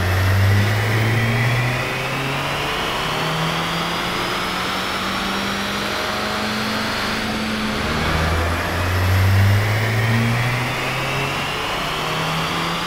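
A Volkswagen Jetta engine revs hard on a dyno, rising and falling pitch sweeps repeating through the run, loud and close with a steady roar underneath.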